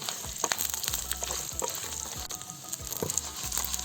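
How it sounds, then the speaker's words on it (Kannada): Spices and curry leaves fry and sizzle steadily in a hot pan for coconut sambar, with scattered stirring scrapes and clicks running through the crackle, close and fairly quiet, no talking. "ಎಲ್ಲ ಚೆನ್ನಾಗಿ ಫ್ರೈ ಆಗಬೇಕು"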